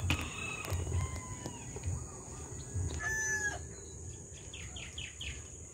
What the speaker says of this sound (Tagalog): Andyan talagang piste din yung mga busit na manok na yan